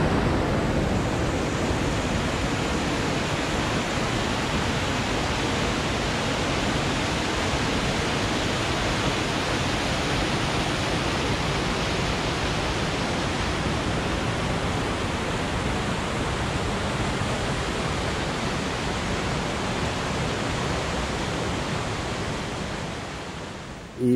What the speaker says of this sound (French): Donc, on est à la chute de Kozapskal.